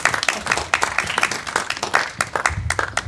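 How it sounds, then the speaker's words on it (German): Applause from an audience at the Burgspiele Güssing open-air theatre, a short burst of distinct, sharp claps that stays fairly close and lively for a few seconds. "Applaus"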